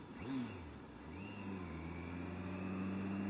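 A sport touring motorcycle engine under way, revving up briefly then settling into a steady mid-pitched drone with a rising whine, fairly close and continuous with wind noise.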